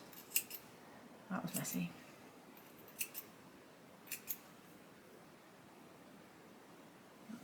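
A few soft, crisp scissor snips cutting embroidery thread, spaced apart against a quiet hiss, with a brief spoken remark.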